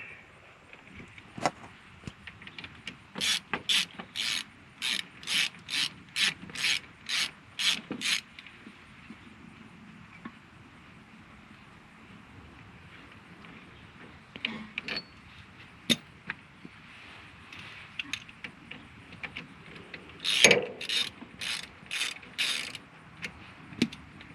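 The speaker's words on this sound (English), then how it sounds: "We're going to take off these 2 bolts." An 18 mm socket on a ratchet wrench loosens two bolts on a John Deere Gator 825i utility vehicle, with two long runs of rapid, close metallic clicks separated by quieter handling noise.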